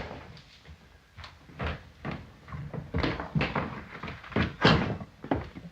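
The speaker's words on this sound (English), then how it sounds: "Bolt that back door." A back door is bolted shut in a 1937 medical drama, a run of irregular wooden knocks, thuds and rattles, fairly close and moderately loud, building toward a sharper clunk near the end.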